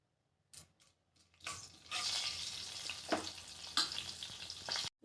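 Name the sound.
spices and chana dal frying in oil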